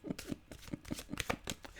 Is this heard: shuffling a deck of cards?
yes